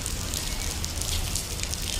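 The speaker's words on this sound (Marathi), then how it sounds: "गाईज पाऊस खूप पडत आहे" Heavy monsoon rain pours down outdoors, a dense, steady hiss with no pauses, loud and close and filling the whole clip, with no voices.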